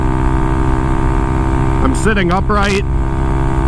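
A Honda Grom motorcycle cruises in fourth gear with a steady, loud engine drone. The rider speaks briefly over the running engine.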